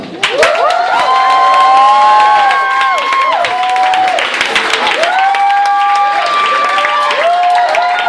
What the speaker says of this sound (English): Clap now for Steve.